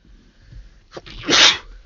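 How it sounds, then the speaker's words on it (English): A single loud, sharp sneeze bursts out near the mic after a short intake of breath, standing alone with no talk around it. "that's about the 10th sneeze"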